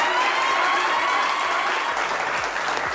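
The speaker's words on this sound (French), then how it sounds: "Est-ce qu'on peut applaudir bien fort Shekinah Yato?" An audience applauds a studio guest on a French-language talk show, steady mid-level clapping with a faint tonal hum running beneath it throughout.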